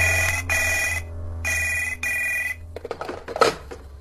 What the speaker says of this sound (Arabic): رن جرس الهاتف في مكتب رئيس مركز الشرطة